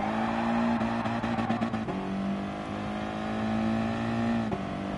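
Front-wheel-drive race car in Gran Turismo Sport, traction control off: a droning engine note that shifts gears partway through, with brief tire chatter, then settles into a steady strained whine and a final gear change.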